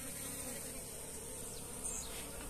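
Bees buzzing steadily around a hive box on a small farm, a close, continuous insect drone with no talking.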